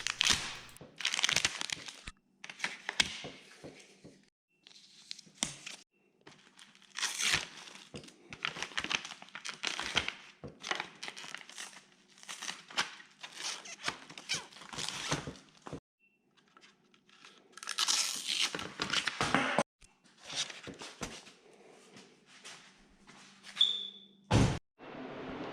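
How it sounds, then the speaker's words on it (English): Plastic and cardboard packaging crinkling, tearing and crunching as new bicycle parts are unwrapped from the box, in irregular bursts of handling noise with short pauses between them, close to the microphone. "we're just going to unwrap all the pieces of the bike"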